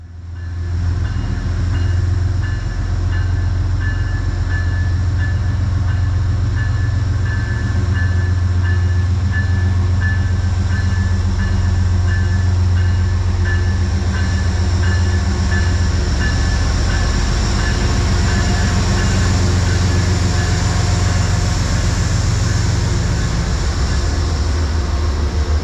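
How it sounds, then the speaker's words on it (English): Conrail 201 pulls a Metro-North commuter train of Shoreliner cars out of a Norwalk station beneath overhead catenary, a loud, steady rumble with a constant tonal whine running unbroken for the whole stretch, close by and alone. "Conrail 201 trundles out of the station as it passes under the shadows cast by the overhead"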